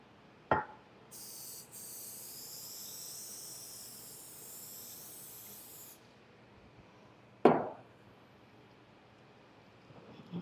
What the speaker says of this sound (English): let's spray our casserole dish